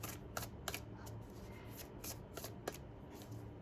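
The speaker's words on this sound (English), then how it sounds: "It's a little difficult to shuffle with these nails." Tarot cards shuffled by hand with long acrylic nails, giving a few sharp riffling bursts and soft papery flicks at close range over a quiet background, with no talking.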